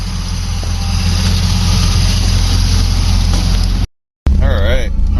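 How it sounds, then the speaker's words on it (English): A GMC S15 Jimmy engine revs loudly and steadily with a throbbing low drone, cutting out briefly before resuming, with people talking nearby. "Maybe give it a rev for us."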